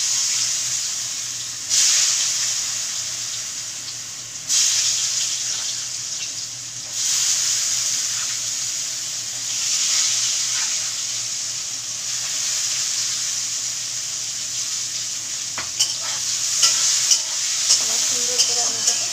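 Diced potatoes tossed into a hot pan with oil and turmeric, frying on a high flame with a steady sizzling hiss and repeated stirring scrapes, close and continuous.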